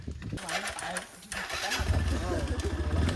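Motorbike engine starts and settles into a low, steady idle rumble close by, with a voice talking over it as it runs.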